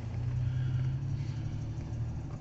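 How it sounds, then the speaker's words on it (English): A 2008 Chevrolet Silverado pickup idles steadily just after a sputtering startup, a continuous low engine rumble running evenly and fairly loud throughout, with no talk. "But she fires right up. She does sputter a little bit on that startup."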